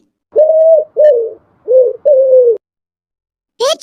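A pigeon coos up close in four steady, low, drawn-out notes with short pauses between them, ending with a brief higher call.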